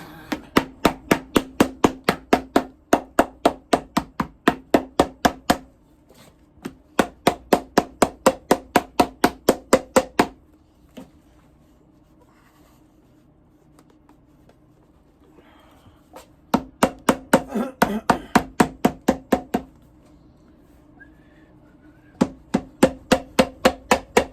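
Rapid, steady hammer blows on boot leather in bursts of a dozen or more strikes, separated by quiet pauses, close and sharp.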